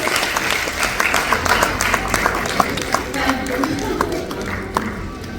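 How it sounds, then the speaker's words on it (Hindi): An audience claps at an International Women's Day police event, a dense round of applause with many overlapping hand claps that holds steady for several seconds while someone talks over it. "Can we have a round of applause"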